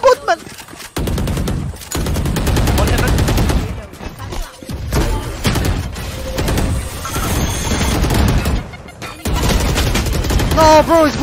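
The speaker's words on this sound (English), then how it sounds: "I'm gonna shoot the boom bot, man!" Rapid automatic gunfire in Valorant, a ranked match on the map Split, rattling in sustained bursts and repeated volleys across the whole stretch, loud and close, with brief pauses between bursts.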